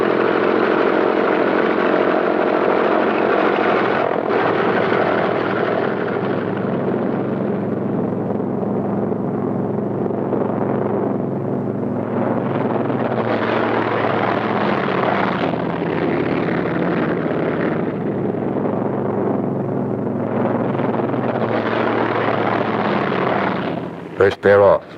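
Propeller-driven P-47 Thunderbolt fighter-bombers of World War II take off in pairs, a loud, steady engine roar running throughout with a voice talking over it, then cutting off abruptly at the end.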